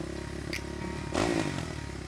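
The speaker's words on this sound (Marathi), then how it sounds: "ताराने हेल्मेट डोक्यात घातलं आणि चावी गाडीला लावली बाईक सुरू होता" A motorcycle starts up as a story sound effect: a brief mechanical clatter, then a short louder burst of engine noise that settles back into a low rumble.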